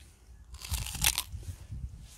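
A Jindo dog crunches into a red radish, a burst of wet, crisp snapping and chewing up close that rises to a sharp bite and then trails into quieter munching.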